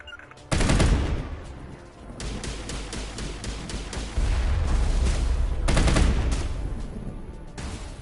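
Sustained bursts of automatic gunfire in Mass Effect, loud and dense, aimed at the player with brief gaps between volleys, no talking.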